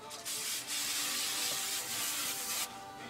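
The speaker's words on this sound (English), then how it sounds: "And then, I'll spray some more." Hairspray hisses onto teased hair in several bursts, a close, bright spray broken by short pauses.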